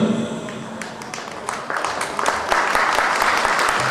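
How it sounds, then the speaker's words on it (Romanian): Wedding guests at a reception with a live band applaud, the clapping starting sparse and swelling into full, steady applause, with some voices underneath. "Felicitări și aplauze pentru Daniela și Cornel"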